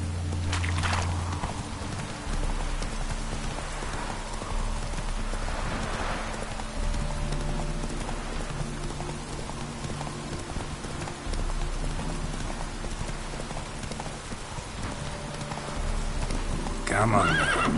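Roach gallops and whinnies in The Witcher 3: Wild Hunt, rapid hoofbeats drumming close with a loud neigh, rain hissing across the ground, game music and a voice speaking to the horse over it.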